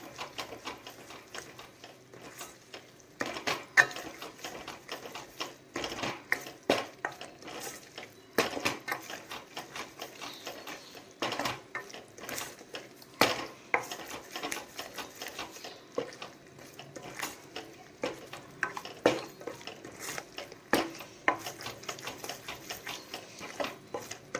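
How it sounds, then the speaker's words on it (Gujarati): Flour being roasted in a pan over a low flame for sukhdi, with irregular scraping and stirring clicks from a spatula against the pan, close and fairly quiet, repeating throughout without talk. "અને બરાબર શેકવાનું છે લોટ અને સ્લો ગેસમાં શેકવાનો કારણ કે બળી ન જાય"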